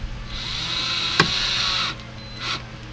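A power driver whirs as it drives a self-tapping screw into a carbon fiber side skirt on a Camaro: a short high-pitched buzz for under two seconds, a sharp click, then a brief second burst, close and loud.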